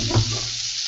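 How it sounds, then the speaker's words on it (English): Pre-minced garlic hits hot oil in a pan with a brief, bright sizzle that swells then settles into a steady frying hiss, close and fairly loud, with no talk over it. "listen to that sizzle"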